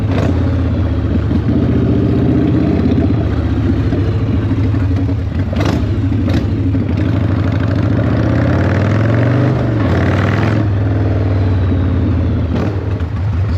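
A 1996 Harley-Davidson FLSTF Fat Boy V-twin rumbles steadily up close, holding a loud, throaty idle-to-cruise note with a few brief throttle blips and clattering bursts, with no talking over it.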